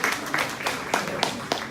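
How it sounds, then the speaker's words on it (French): A small group of seniors at a village seniors' celebration in Remelfing claps in loose, uneven bursts, the separate hand claps sounding near and distinct rather than forming a full roar. "Je pense que là aussi, vous pouvez vous applaudir."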